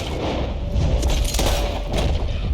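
Gunfire at flying birds in the video game Red Dead Redemption 2 comes as several loud, booming shots in quick succession over a dense game soundscape.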